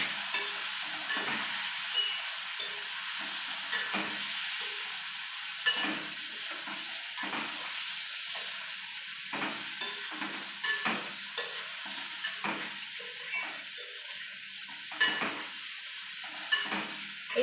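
Boiled potatoes stirred and fried in a pan, with a steady close sizzle under repeated scraping strokes of a spoon against the pan and no talking.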